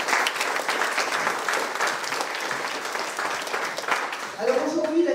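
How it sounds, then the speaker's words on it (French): Audience applause fills a twinning ceremony between Le Coudray-Monceau and Drebkau, a steady dense clapping that swells again near the end, with some voices mixed in. "Donc on peut les applaudir et les remercier."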